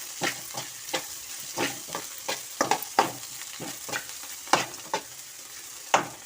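Bitter gourd being stir-fried with chili powder in a pan: a soft background sizzle broken by repeated, irregular scraping strokes of a spatula, close and moderately loud.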